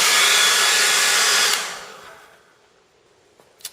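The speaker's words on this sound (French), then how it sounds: "puis chauffer pendant un petit moment sur tout le cadre" A hot air blower heats a frame while a bubble sheet is applied, giving a loud, steady, close blowing roar that cuts off after about a second and a half and winds down to near silence, followed by a brief faint click.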